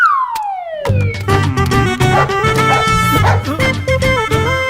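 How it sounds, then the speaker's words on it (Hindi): A siren wails downward, then a dog barks repeatedly in quick bursts over a loud, dense background of sirens and music, from a Bhojpuri comedy film scene. "पिंटू क्यों भौंक रहा है?"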